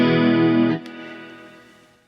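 A guitar through the chorus effect of a Boss Katana Mini X amp plays a shimmering chord that cuts off quickly, with a small pluck and a fading tail after it.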